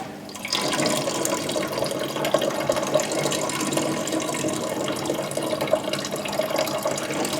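Water pours steadily into an old car radiator during final engine assembly, a continuous gushing, splashing flow that stays close and even throughout, with no voices.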